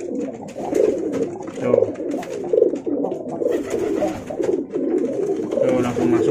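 Mated pigeons coo continuously and close by in or near a loft cage, their soft rolling calls repeating in a steady, overlapping rhythm with no talk.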